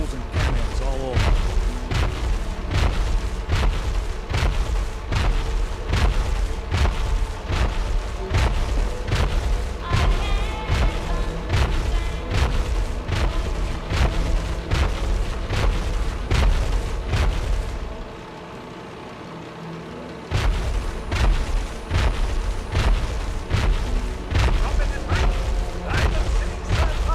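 Cannon fire and explosions in Fallout 4, a rapid barrage of heavy booms repeating roughly every second, loud and close, with a brief quiet gap partway through before the bombardment resumes.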